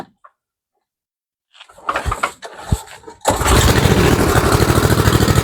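A snowblower engine, key on and throttle set about halfway, cranks with a few uneven bursts, then catches and settles into a loud, steady running roar that continues to the end.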